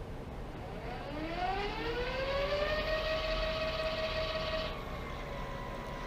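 A Swytch electric bike hub motor at power level 5 whines up in pitch to a steady high tone, holds for a few seconds, then cuts out abruptly, leaving quiet background.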